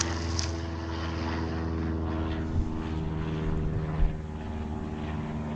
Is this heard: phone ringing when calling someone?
no